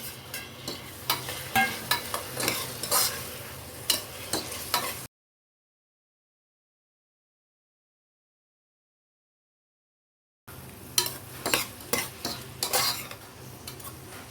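Chopped tomatoes sizzle and fry in a pan, with repeated stirring scrapes and clinks of a utensil; a silent gap splits the sound into two stretches.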